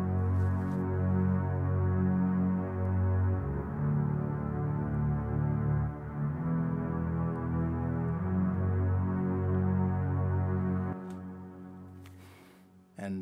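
An amapiano beat made in FL Studio plays steadily, with sustained low synth bass under layered Hollywood violin strings, the low end dropping out near the end.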